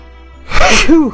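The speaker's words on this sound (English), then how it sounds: "So that was one of the weakest sneezes ever" One short, close sneeze follows a quiet pause, ending with a small voiced squeak.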